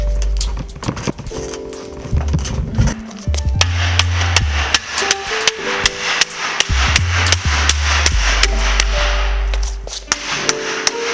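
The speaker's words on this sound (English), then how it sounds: "I clamped it into the table and now I can just hammer it over" Sharp, ringing hammer blows fold over the edge of a steel roof panel clamped to a table, coming in irregular bursts of quick strikes with brief pauses between them, loud and close.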